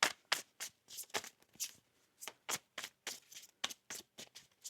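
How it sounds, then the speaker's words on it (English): A deck of tarot cards is shuffled by hand in quick riffling bursts, about a dozen crisp flutters with brief pauses between, close and quiet. "One more shuffle."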